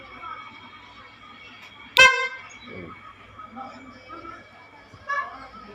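A sharp, loud Mitsubishi Fuso truck horn blast rings out, followed a few seconds later by a shorter, fainter honk, with quiet background murmur between.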